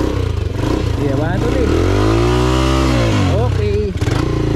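A motorcycle stuck on a muddy dirt road revs loudly and close, its engine pitch sweeping up and down, while people talk over it.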